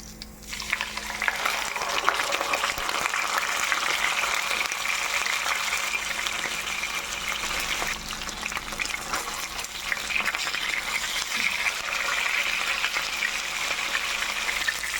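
Talakitok fish fries in hot oil, giving a loud, dense, unbroken sizzle and crackle that stays close and constant throughout.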